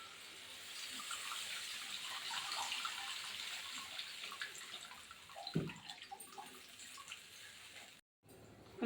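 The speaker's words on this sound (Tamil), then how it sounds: "புளி கரைசலை ஊற்றிக்குவோம்." Tamarind water poured into a rasam pot on a stove: a steady, close watery splash and trickle over a faint hiss, with a brief dip near the end.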